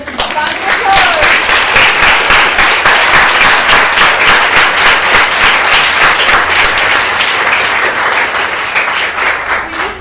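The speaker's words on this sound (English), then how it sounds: "Round of applause." Sustained round of audience applause fills a hall at a V-Day 2020 Vagina Monologues event in Cape Town, dense and loud clapping throughout with crowd noise and some voices mixed in.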